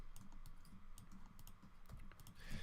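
Keys clatter in a steady stream of quick, light clicks on a computer keyboard, close by and alone, with a slight burst near the end.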